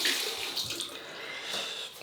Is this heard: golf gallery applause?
no